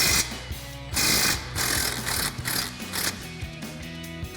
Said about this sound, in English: we'll grab our 18mm socket on our impact.